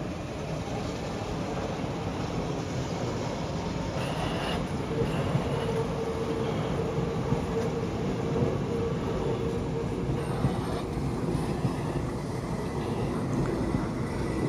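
A metro train runs through a Munich station with a continuous low rumble and rolling rail noise, steady and fairly loud throughout, with occasional faint squeals and clatter on top.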